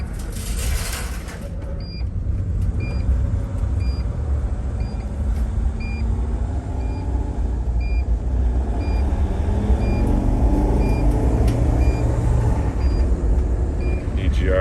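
A T1N Sprinter van's engine idles steadily after an ignition reset, a low continuous rumble with a string of evenly spaced electronic beeps over it and a voice speaking nearby.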